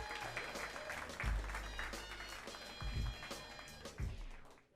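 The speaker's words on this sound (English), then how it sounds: "Start clapping hands right now for Dave Sheehan." Audience applause at a live roast battle comedy show, a steady crowd clapping with a few cheers rising and falling over about five seconds, with low thumps from the venue.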